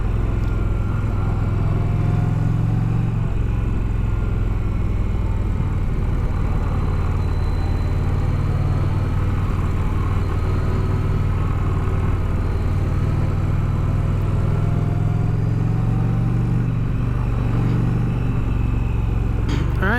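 An Indian Pursuit motorcycle on a demo ride gives a steady, loud low engine drone and road rumble that holds without break for the whole stretch, with wind noise on top.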